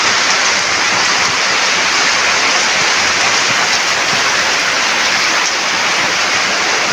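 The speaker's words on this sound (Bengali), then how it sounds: "আজকে সকাল থেকেই আমাদের এখানে অনেক বেশি ভারী বৃষ্টি হচ্ছে।" Heavy rain pours down without pause around a house where the veranda and yard are flooding, a loud dense wash of water with no voices.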